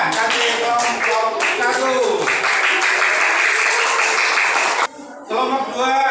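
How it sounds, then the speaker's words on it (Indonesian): A group in a classroom or training session applauds, with dense continuous clapping that holds steady for several seconds before a brief pause, then resumes more quietly. "Beri tepuk tangan untuk kelompok 2."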